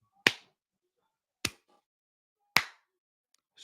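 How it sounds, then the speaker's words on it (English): Three slow, separate hand claps, sharp and isolated with long silent gaps between them, each spaced over a second apart. "Slow clap, standing clap."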